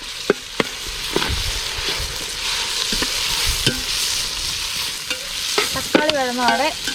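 Onions are stirred and fried in a pan for kappa (tapioca) biriyani, making a close, continuous sizzle with scattered spatula scrapes and clacks and a brief squeaky tonal chirp near the end.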